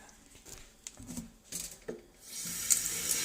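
A tap runs to fill a bowl with cold water for cooling a pan of turmeric milk, starting with a few clatters and taps, then a steady close hiss of flowing water.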